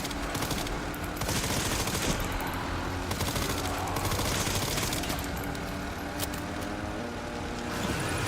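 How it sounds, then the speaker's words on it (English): Dense, sustained automatic gunfire from shooting enemies in the video game Resident Evil: Requiem roars continuously with rapid bursts and no voices. "so just shoot everything you can"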